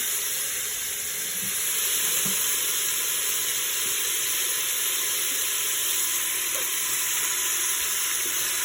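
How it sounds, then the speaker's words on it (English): Peppers and onions sear in a hot pressure cooker pot, giving a constant bright sizzle with faint crackles and occasional soft stirring knocks, close and steady without speech. "this is already searing up very nicely"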